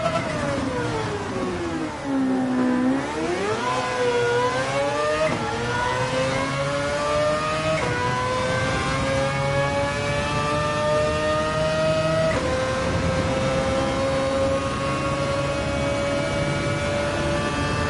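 A Ford GT in Gran Turismo 7: a loud, steady engine note that dips, then climbs through the revs with gear changes as the car accelerates, droning continuously up to high speed.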